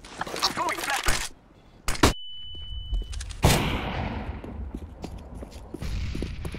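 Flashbang grenade going off in a shooting video game: sharp loud blasts followed by a steady high ringing tone, alongside gunfire-like bursts and footsteps, with players talking in voice chat.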